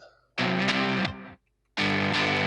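Heavily distorted electric guitar chords that stop abruptly into silence, then a loud chord cuts back in.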